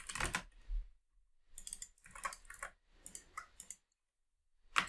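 Computer keyboard typing while writing a SQL statement comes in short bursts of close, crisp key clicks with brief pauses between them, then a final quick tap.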